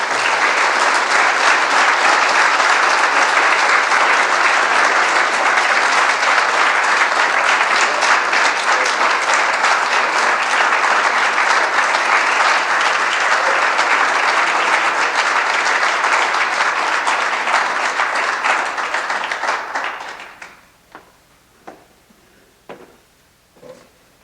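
A large audience at a CNATCA summit applauds Orion, dense sustained clapping that holds loud for about twenty seconds, then drops away abruptly, leaving only a few scattered claps.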